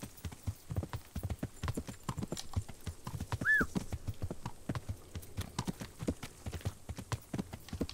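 Rapid rhythmic clip-clop of horse hooves at a steady gait while riding in Kingdom Come: Deliverance, with a brief whinny partway through and no talking.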